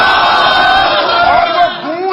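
A crowd at a religious gathering chants the takbeer slogan together, a loud, sustained roar of massed voices echoing as one.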